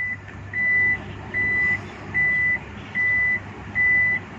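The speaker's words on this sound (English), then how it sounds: "We'll open up the back tailgate, which is electric." The electric tailgate of a Toyota RAV4 EV opens to five evenly spaced, steady electronic beeps, each lasting about half a second, sounding close over a low mechanical hum.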